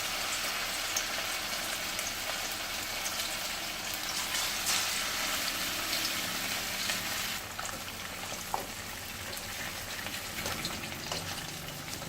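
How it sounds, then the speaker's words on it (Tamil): Marinated fish pieces fry in hot oil in a pan, giving a continuous loud, close sizzle and crackle that holds steady throughout with small spattering pops. "ஒவ்வொரு மீனாக எடுத்து எண்ணெயில் சேர்த்துடலாம்"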